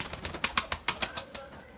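Breeding pigeons in their coop flap and shuffle close by in a quick run of soft, uneven bursts, fairly quiet, with no voices.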